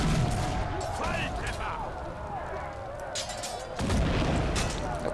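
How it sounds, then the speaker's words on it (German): Explosions in the video game Risen 3, booming bursts layered with battle noise and loud effects across the clip, with a heavier blast near the end and someone talking over it. "da explodiert was"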